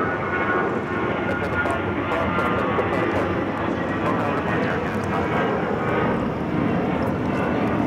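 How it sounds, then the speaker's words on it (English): An Air Canada Airbus A321 jet takes off at Los Angeles LAX, bound for Vancouver, its engines producing a loud, sustained roar throughout, with a person talking over it. "This is Air Canada 555 taking off to Vancouver on the A321."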